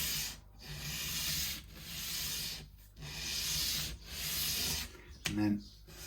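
An acoustic guitar saddle is rubbed back and forth on flat abrasive paper, making four long, close sanding strokes separated by brief pauses, followed by a short knock.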